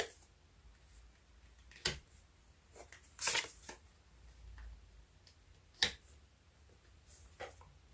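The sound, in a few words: shuffling and drawing tarot cards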